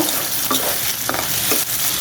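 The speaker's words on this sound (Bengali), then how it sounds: "আমার চিংড়ি মাছ রসুন পেঁয়াজ কাঁচামরিচ সব ভাজা হয়ে গেল" Shrimp frying with garlic, onion and green chili, sizzling loudly and continuously while a utensil stirs through it in a few distinct strokes.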